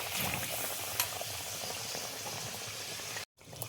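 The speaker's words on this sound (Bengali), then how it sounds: "এবার দেখো ব্যাটারের মধ্যে ডুবিয়ে আমি তেলে ভেজে নেব" Battered paneer frying in hot oil over a medium flame gives a dense, steady bubbling sizzle that stays loud and close throughout, with one brief sharp click and a short drop to near silence near the end.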